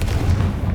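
Confringo blasting spell cast in the Hogwarts Legacy video game, a loud, dense low boom that rumbles steadily through a brief moment without any talk.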